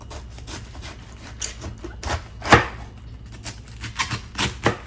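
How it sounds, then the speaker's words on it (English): A knife chops rapidly and unevenly on a cutting board, crisp close-up strikes shredding cabbage into thin slices, with no talking. "we're going to shred our cabbage by chopping it into thin slices"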